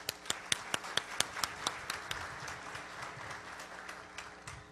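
An audience applauding at a business forum, a brisk burst of clapping from a moderate-sized crowd that starts with distinct sharp claps and then thins and fades.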